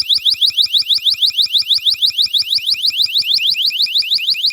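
A digital flash bang distraction device sounds a loud, piercing electronic alarm, a rapid train of rising high-pitched chirps that repeats steadily without pause for several seconds.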